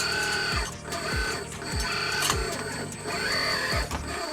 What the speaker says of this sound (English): It is an outrunner brushless motor, so it sounds a little chunky when you actuate it.